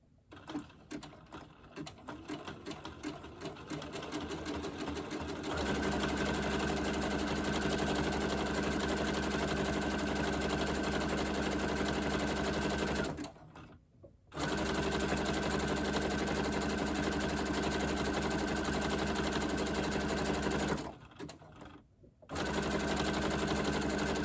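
Sewing machine stitching scrap pieces of quilt batting together, starting with quick stuttering bursts, then running in a steady loud whir that stops briefly twice before resuming, close and continuous.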